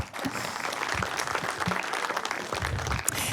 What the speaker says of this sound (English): So give applause for that